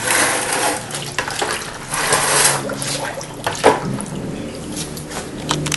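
A pump is dropped into a bucket of descaling solution for a Navien tankless water heater, giving a wet splash and sloshing with squishy liquid movement, fairly close and steady throughout.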